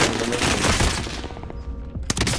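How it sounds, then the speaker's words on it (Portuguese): Gunfire in the video game Warzone: a dense, loud burst of rapid shots that fades and then returns with a few sharp reports near the end, with no voices over it. "Tô tomando tiro."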